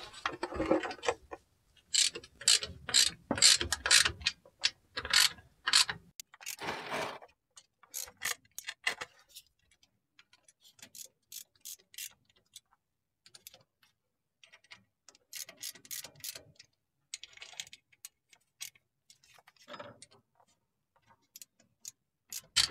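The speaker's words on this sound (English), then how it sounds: "I'm going to go around and check them with a ratchet by hand" Hand ratchet snugging the differential cover bolts on a 2008 Duramax LMM truck, heard as close, rapid clicking bursts that start strong, then come in shorter, fainter runs with pauses as each bolt is checked.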